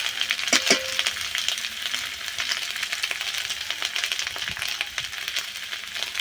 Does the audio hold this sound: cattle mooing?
no